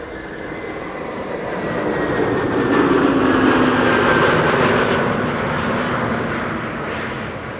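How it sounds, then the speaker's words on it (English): A JetBlue airliner inbound from New York JFK approaches close overhead on arrival at Amsterdam Schiphol, a broad jet roar with faint whining tones swelling to a peak midway and then easing off, alone without voices. "This is your airline, JetBlue, arriving from New York, JFK, flight 2288."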